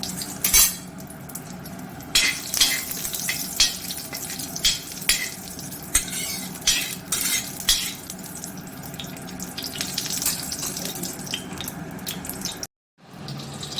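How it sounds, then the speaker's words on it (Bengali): Cardamom pods and bay leaves sizzle in hot oil for a Bengali basanti pulao, a steady close crackle of tempering spices with occasional clinks of a utensil against the pan, no voices. "তেলটা গরম হয়ে গেছে এবার এর মধ্যে এলাচ আর তেজপাতা ফোড়ন দিয়ে নিলাম"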